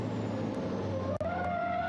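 A racing truck at the 2021 European truck championship at Hungaroring, doing 160 km/h into the braking zone with failing brakes: steady engine drone from close by, a sharp brief burst midway, then the engine tone climbing.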